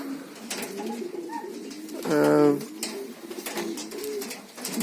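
A pigeon coos once in a soft, low, rolling burst, heard close by while a person talks in Ukrainian around it.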